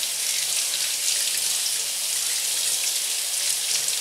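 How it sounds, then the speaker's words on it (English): Running warm tap water pours steadily into a sink as bell peppers are rinsed, a continuous hissing splash with no pauses. "And then I just give it a rinse with warmish water."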